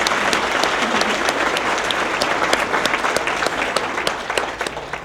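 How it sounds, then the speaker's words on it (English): Steady, dense applause from a fundraiser dinner audience thanking the table sponsors, a full room clapping continuously at even loudness for the whole stretch with a faint murmur of crowd underneath. "Thank you again, table sponsors. Please give them a round of applause."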